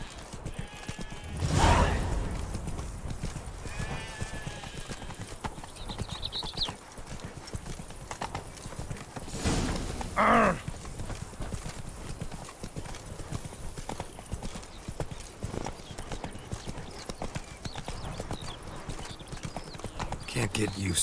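Roach, a horse in The Witcher 3, clip-clops at a steady pace, hoofbeats continuous and fairly close beneath ongoing speech and game ambience, with brief louder bursts along the way.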